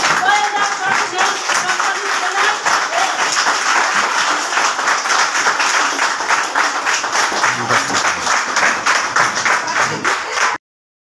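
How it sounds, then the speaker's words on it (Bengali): Loud, sustained applause from an audience standing to welcome a speaker at a Vestige training event, dense clapping that runs steadily for about ten seconds before cutting off abruptly. "জোরদার হাততালি হবে"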